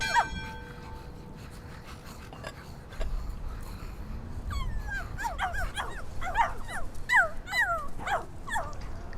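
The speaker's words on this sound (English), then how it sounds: "Scraps, Flooper, Poor pups probably haven't been fed in a long time" Hungry dogs in a video game whimper and yip in high, wavering cries, then burst into a cluster of close, loud barks over a rumbling background, with no talking.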